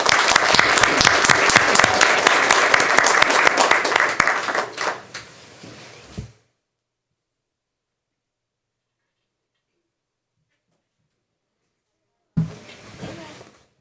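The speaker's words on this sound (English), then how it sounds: "Give him a round of applause." Audience applause at a school Teaching & Learning Committee meeting, a dense clapping burst that thins into scattered individual claps and fades out, followed by a long silence and a brief faint noise at the end.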